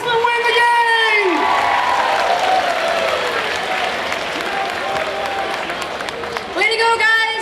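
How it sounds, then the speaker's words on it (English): A school assembly crowd claps, whoops and cheers loudly in a gym, with voices yelling over the applause and a bright whistle-like shout at the start and end. "You guys give a round of applause."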